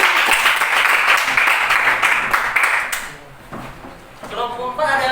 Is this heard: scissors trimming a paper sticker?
no